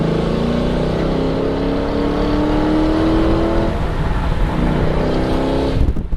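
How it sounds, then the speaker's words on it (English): A 2017 Ford GT supercar with a titanium exhaust accelerates hard, its loud close engine note climbing steadily in pitch for several seconds before a brief rougher burst near the end, with no talking. "This car just builds speed so fast."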